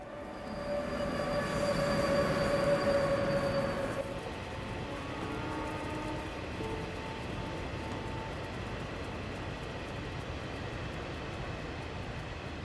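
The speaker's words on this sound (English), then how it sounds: "After initially being intimidated by the roar of the train" A train rumbles past nearby with a steady roar, a high squealing tone over the first few seconds, then a lower continuous rolling rumble.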